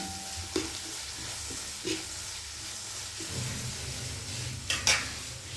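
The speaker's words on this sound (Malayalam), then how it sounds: "ഇച്ചിരി ഒന്ന് കുറച്ചുകൂടെ ഒന്ന് വഴന്ന് വരട്ടെ ഈ ഉള്ളി എല്ലാം" Sliced onions sauté with curry leaves in a pan for chicken curry, giving a soft, steady sizzle close by with occasional stirring scrapes and small clinks, no voices.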